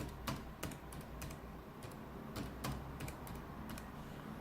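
Keystrokes on a computer keyboard as an admin password is entered during wifi router setup, a steady run of light clicks at moderate level over a constant background hum, with no talking.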